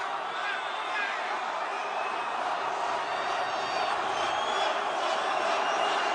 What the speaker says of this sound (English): Wow, great crowd, huh?